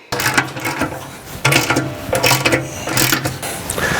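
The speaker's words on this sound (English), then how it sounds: "We're going to go ahead and tighten these brackets down on each side." Ratcheting socket and 3/4 wrench tightening skid plate brackets on a Jeep JL with a Hemi 392, close and loud: quick repeated ratchet clicking in several bursts separated by short pauses.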